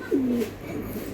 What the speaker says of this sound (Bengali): খুবই সুন্দর Young রকেট কবুতর